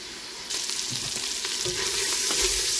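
Andouille sausage browns in a gumbo pot for a chicken and sausage gumbo made with a dark dry roux and no oil. A loud, close sizzle starts suddenly and keeps going with soft stirring noises, and no one speaks.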